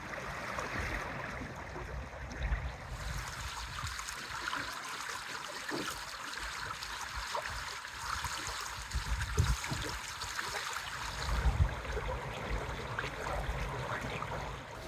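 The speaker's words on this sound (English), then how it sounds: "The sound of solitude for this episode takes us to the banks of Back Creek" Back Creek in Roanoke County, Virginia flows with steady rushing and trickling, continuous broadband water noise with occasional louder splashes, no voices.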